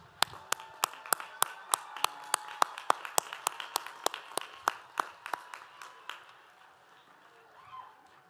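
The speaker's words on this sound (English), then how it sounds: "Students, please join me in a round of applause for your amazing faculty." At a university commencement ceremony, a small group claps in a steady, evenly spaced rhythm of sharp individual claps, about two dozen in quick succession, then fades into quiet room tone and a faint murmur.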